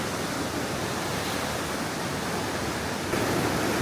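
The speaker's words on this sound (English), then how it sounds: "River's flowing big time." A strongly flowing river behind a riverside market in Vang Vieng, Laos, gives a dense, steady roar of rushing water, loud and unbroken throughout with no voices.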